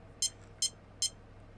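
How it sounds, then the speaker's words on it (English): Three short, high-pitched electronic beeps from an RC car's Castle Sidewinder 4 speed controller, evenly spaced against a low background hum. "the beep is normal, just in case you forgot the car was still powered on"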